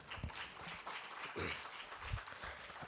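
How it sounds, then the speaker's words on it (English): An audience at an IIT Delhi alumni celebration applauds at a moderate distance, with dense, steady clapping throughout. "A huge round of applause as they make their way up."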